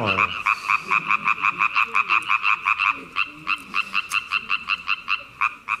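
A dense chorus of frogs croaks in fast, regular pulses, loud and close, with overlapping callers keeping a steady rhythm throughout.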